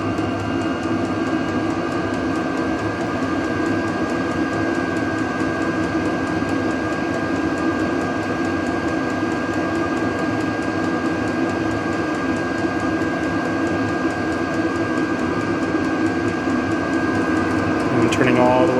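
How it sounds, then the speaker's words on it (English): Steady mechanical hum and rapid ticking from a Vevor diesel heater's fuel pump running faster while camping, constant and moderately loud throughout, with a faint steady tone above it. "You can hear the pump moving faster."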